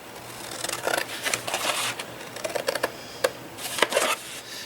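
Scissors snip through paper, cutting small squares out along scored lines, a quick series of sharp close-up cuts in irregular bursts with short pauses between them.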